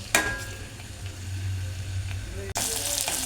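Onions with dried red chillies and green chillies frying in oil in a pressure cooker pot, a steady close sizzle with a low hum beneath and a sharp bright burst near the end.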